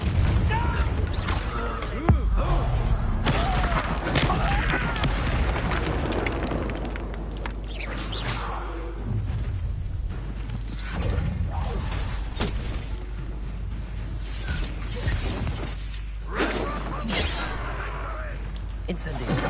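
Incendio fire spells blasting in the video game Hogwarts Legacy, booming bursts and crackling flames over a constant loud rumble of game music and effects, with voiced character lines mixed in.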